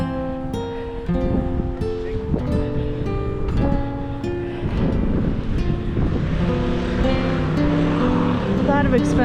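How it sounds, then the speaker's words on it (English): A Ford Mustang and a Dodge Charger drive past one after the other at a Malibu flag memorial, engine and tyre noise rising under wind buffeting the microphone, with people talking over it. "Expensive cars, definitely a Mustang, and then a Charger right behind it."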